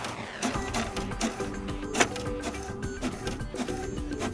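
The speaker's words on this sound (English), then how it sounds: "my information page is printing" An HP Ink Tank Wireless 410 printer prints an information page, giving steady mechanical whirring with repeated rhythmic clicks and feed thumps at close range, with no voices.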